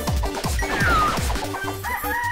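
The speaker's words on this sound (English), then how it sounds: "Why is there a rooster?" A rooster in a Mario video game crows once over a run of rhythmic, bouncy game sound effects, loud and close.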